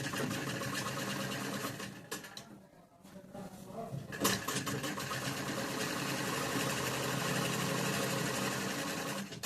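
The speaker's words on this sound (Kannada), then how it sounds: "ಈ ಥರ ಒಳಗೆ ಕಟ್ ಮಾಡಿ ಮೇಲೆ ಸ್ಟಿಚ್ ಹಾಕೋಣ" A sewing machine stitching a chudi top runs in a steady, close mechanical whir. It pauses briefly partway through, then resumes its continuous rattling hum.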